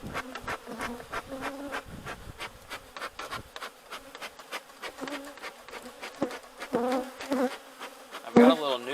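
Honey bees buzzing around an opened hive during a queen cell check, a dense close hum with frequent individual bees zipping near, plus occasional rubbing and handling noises.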